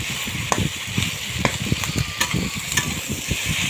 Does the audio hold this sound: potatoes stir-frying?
yes